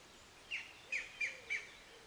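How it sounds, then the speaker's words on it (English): Woodpecker calls ring out in a wood, four loud, sharp chirping calls in quick succession, close by and alone with no talk. "I can hear the woodpeckers calling now"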